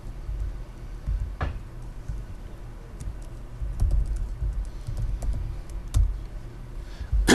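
Code is typed on a computer keyboard with quick, irregular key clicks and a few sharper key strikes, close and moderately loud over a low room hum at a hackerspace, with no talk.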